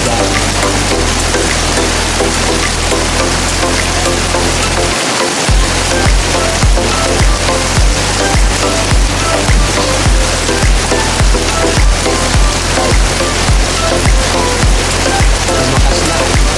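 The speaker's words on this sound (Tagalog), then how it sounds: "Lumakas na ulan." Heavy rain pours down on a public market, a dense, loud, constant hiss and patter on surfaces with low thumping underneath, steady throughout and no talking.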